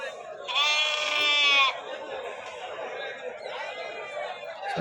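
At a Saturday livestock market in Anantapur, a goat or sheep lets out one loud, long bleat nearby, then a fainter second bleat follows over steady crowd chatter and talking.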